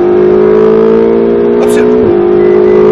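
A Ferrari 458 Italia engine drones loud and steady on a track, pitch holding high before a quick dip around a gear change, with a sharp transient mid-way.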